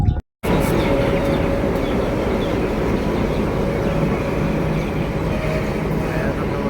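A diesel locomotive train passes a rail crossing on a foggy hillside with a loud, continuous rumbling roar that holds steady throughout after a brief break at the start.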